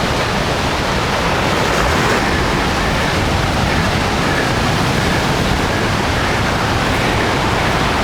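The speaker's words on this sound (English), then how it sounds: "I think there's gonna be some waves to be had over there." Small waves wash steadily onto a Wisconsin lake shore, a continuous broadband surf rush with no distinct individual breaks, fairly loud and close, mixed with some wind.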